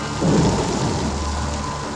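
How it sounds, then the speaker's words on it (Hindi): Steady thunderstorm through a window: a deep rolling rumble of thunder swells early, with continuous heavy rain hissing on surfaces beneath it. "खिड़की से आने वाले तूफान का शोर"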